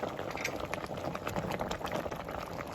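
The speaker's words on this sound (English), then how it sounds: "So I'm boiling cabbage." Cabbage boiling in a pot with about two cups of water, a steady bubbling and popping that stays fairly close and even, rising in small bursts without any voice.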